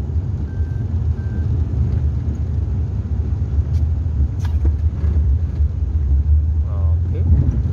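Road traffic heard from inside a car driving from the San Juan airport to a hotel in Puerto Rico on a rainy day, a steady low engine and tire rumble with passing vehicles, while people talk inside the car.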